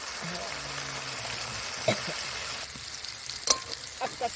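Boiled taro pieces dropped into hot oil sizzle and crackle in a pan, a steady close hiss with occasional stirring clinks and pops.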